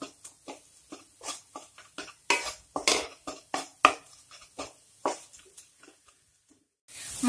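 Mawa is pressed and stirred in a pan with a spoon, giving a rapid series of soft scraping clinks and squishy taps in an irregular rhythm, close by, fading to quiet before a final louder scrape.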